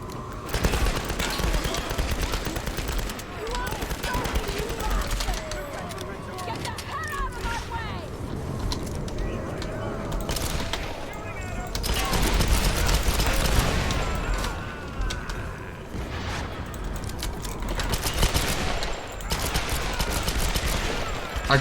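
Dense automatic gunfire rakes enemies in the 2013 Tomb Raider game, sustained bursts with booming hits and a grenade-like blast, while a player talks over the continuous shooting.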